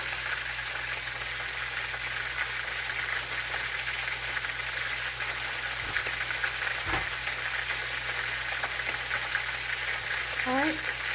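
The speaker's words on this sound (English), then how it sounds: "Let's stir it up." Fresh basil fries in a pan for chicken rigatoni, giving a steady close crackling sizzle with a few stirring knocks and scrapes, running continuously at a moderate level throughout, with no voices.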